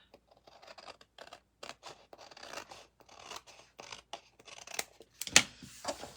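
Small scissors snip thin paper pieces for a scrapbook layout, a quiet, close run of irregular crisp cuts and light scratchy rustles.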